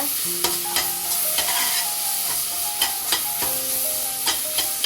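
Onions sautéing in a pan for mango curry, with a steady sizzle and regular sharp taps of a spoon stirring against the pan, close by. Faint tonal hums run underneath.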